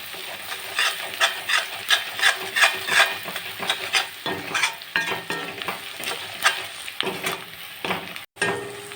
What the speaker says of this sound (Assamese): সেয়া মোৰ মছলাখিনি ভাজ খাইছে